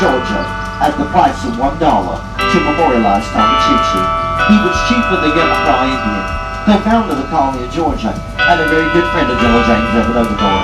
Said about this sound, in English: what you're hearing now are the bells of the oldest Lutheran church here in the city of Savannah.